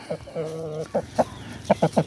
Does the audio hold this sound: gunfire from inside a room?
no